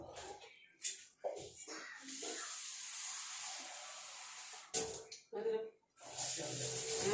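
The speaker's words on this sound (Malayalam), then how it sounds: "ഇച്ചിരി വെള്ളം കൂടെ ചേർക്കാം" Water poured into a pot of fish curry gives a steady broadband hiss and splash lasting several seconds, broken by short bursts of nearby speech.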